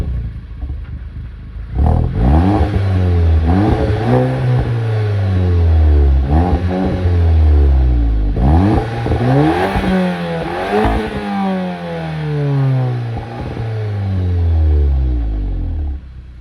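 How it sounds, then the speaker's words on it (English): A 2018 Volkswagen Golf GTI Mk7.5 engine with a resonator-delete exhaust revs repeatedly, rising and falling in sweeping bursts with a deep, raspy exhaust tone, close and loud, no talking. "So I'll start it up and give it a little rev."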